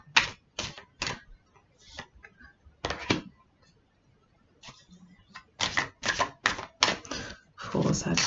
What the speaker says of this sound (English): I'm going to pull some cards from the Wisdom of the Oracle deck.